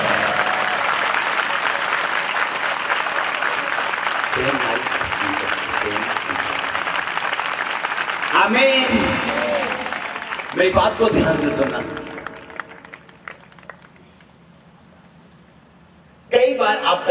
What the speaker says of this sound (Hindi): पवित्र आत्मा के ताली बजाओ सब जन, जितनी उसकी तारीफ कर सकते हो करो।